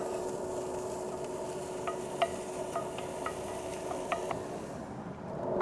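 Pancetta sizzling in a preheated cast iron skillet, a quiet steady frying hiss with scattered small pops and crackles and occasional stirring taps.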